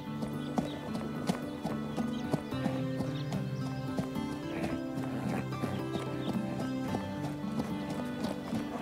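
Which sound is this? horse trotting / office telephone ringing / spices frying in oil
horse trotting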